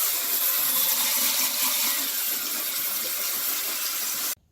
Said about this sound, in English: let that brush scrub for you